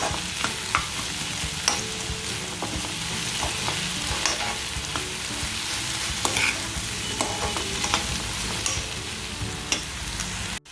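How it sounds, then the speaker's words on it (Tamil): Onions and tomatoes sauté in a pan as the base for a spicy squid masala fry, making a constant close sizzle with light scraping from stirring throughout. "நல்லா வெங்காயம் தக்காளி எல்லாமே நல்லா வணங்கிடுச்சு."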